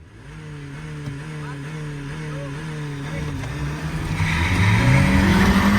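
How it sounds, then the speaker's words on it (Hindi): A Hyundai Creta Turbo and a Honda City accelerate side by side in a drag race, engines revving up through rising gear pulls and growing louder and closer toward the end, with faint talk in the background. "तो भाई अपनी क्रेटा पहले आगे निकली, और भाई निकलती ही चली गई है"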